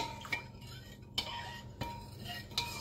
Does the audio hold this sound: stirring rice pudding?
yes